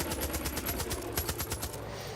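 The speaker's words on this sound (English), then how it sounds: "just took a bear out with a machine gun" Rapid machine gun fire from the video game Far Cry 5, aimed at a bear, with a dense continuous burst of loud automatic shots lasting almost two seconds, heard alone.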